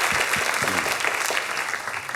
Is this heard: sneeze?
no